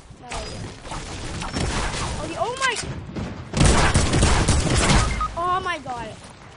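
Shotgun blasts in a video game, heavy booming bursts and rumbling impacts in two loud clusters, with a player's voice talking over the gunfire.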